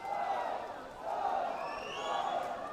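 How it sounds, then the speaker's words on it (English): Crowd cheering and shouting at a national age group swimming championship final, a steady roar from spectators that swells in waves over a few seconds, with voices blending into a broad, sustained din. "Crowds finding their voices here at the Sukatadasa."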